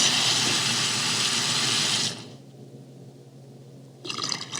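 Water poured into a pot of rice, a steady broadband rush for about two seconds that then stops, with a brief splash near the end.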